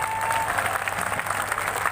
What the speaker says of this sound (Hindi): मन बना लिया है तो ताली बजा दीजिए।